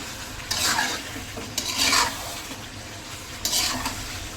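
Chicken pieces coated in sour yogurt, lemon and salt fry in a pan for a wedding-style roast, with three bursts of stirring and sizzling rising over a low steady background.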